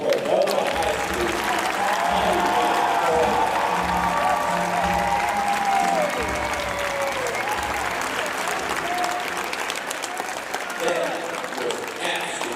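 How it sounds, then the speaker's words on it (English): A large forum audience claps and cheers for the Cordova High School performers at the Keeper of the Dream Award event, sustained applause with voices mixed into the crowd noise throughout. "Let's have another huge round of applause for the Cordova High School."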